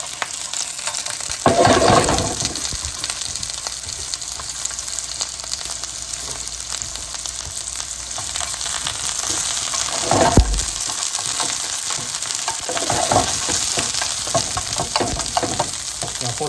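Onions frying in a pan alongside pork and vegetables for yakiniku, a loud continuous sizzle close up with occasional bursts and scraping stirs, no one speaking.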